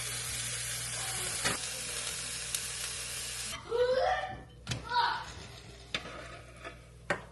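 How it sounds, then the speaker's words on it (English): A piece of wild-caught mahi mahi sizzles in a hot pan, a loud steady hiss that cuts out midway, followed by scattered clicks, taps and brief spoken sounds. "you just throw this into a hot pan and let it get warm"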